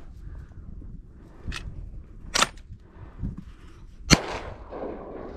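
Shotguns fired during a duck hunt over decoys, two sharp outdoor reports about two seconds apart with fainter thumps between, set against wind and rustling, with no talk.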